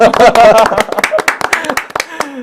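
Several people clap in a political talk-show studio, sharp uneven claps scattered over lively overlapping voices, close and loud, tapering off after a couple of seconds.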